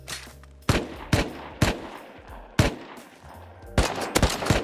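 Gunfire in the survival video game Rust: several sharp, loud shots spaced irregularly, then a quick burst of rapid shots near the end, close and punchy over low background rumble.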